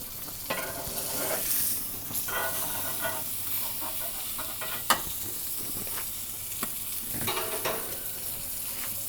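A ribeye steak sizzles loudly in an Ooni Koda 16 pizza oven, a steady frying hiss broken by several scraping, clanking flips with a spatula.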